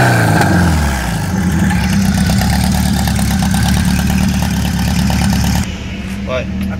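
A VW Beetle fitted with a forged, supercharged Subaru EJ20 engine runs loudly and steadily up close, its dense, rough engine note continuous throughout and dropping slightly in level near the end.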